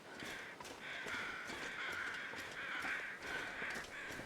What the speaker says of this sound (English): And those are just regular flying crows,